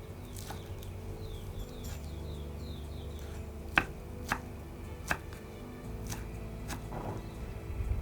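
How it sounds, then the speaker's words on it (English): Celery and mint leaves are cut with a knife, heard as sparse, sharp taps on a board against a quiet hum, with a few faint chirpy sounds in the background. "quantity of celery and mint leaves, and then cut them"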